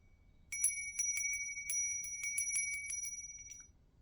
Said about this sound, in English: the last thing I want to do is give you the sound of the bells